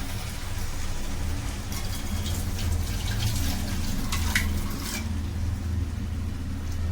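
Water runs and splashes in a steady stream into cooking moong dal over a low background hum, with a few sharper gushes, nearby and without speech.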